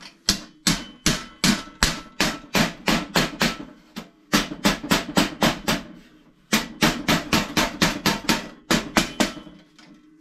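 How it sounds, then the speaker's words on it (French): Mallet striking sheet metal on a mini anvil while forming a 90-degree lip for a VW Split Bus panel, rapid bursts of sharp ringing metallic blows in quick runs separated by short pauses. "je vais finir le retour de lèvre avec le maillet et ici ma mini enclume"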